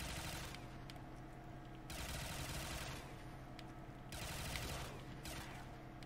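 Gunfire in Black Ops III Custom Zombies, sustained automatic bursts in several long runs, fairly faint and steady, with no voices heard.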